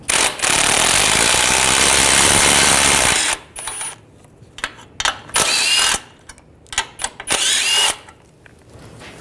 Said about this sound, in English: You're gonna remove these ball joint nuts. You're gonna use a 16mm socket, take these out.